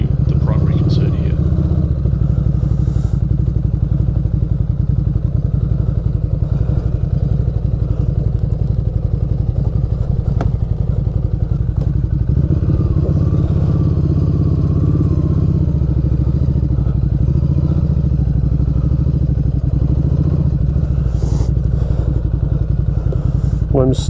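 A road motorcycle on road tyres ridden off road in rural Ireland, its engine a steady close low drone for the whole stretch, with occasional clatter and talk over it at times.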